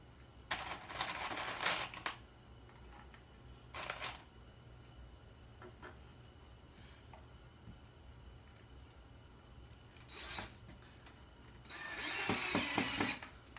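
A power drill drives screws into a wood board while building bar stools, giving several short whirring bursts separated by quiet pauses, the last burst longest, fairly faint and close, with no talk.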